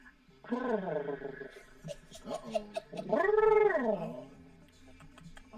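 A voice imitates a cat purring with drawn-out, wavering yowling sounds, two long vocal bursts rising and falling, close and fairly loud.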